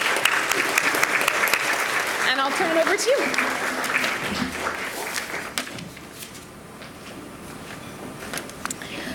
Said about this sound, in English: So we have to give them a round of applause.